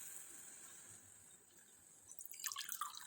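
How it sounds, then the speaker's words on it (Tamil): Water pours into a cooking pot for tomato rice, a soft trickling and dripping that stays quiet at first, then grows into a louder, busier splash toward the end. "இப்போ 2 கிளாஸ் நான் தண்ணி ஊற்றிக்கிறேன்"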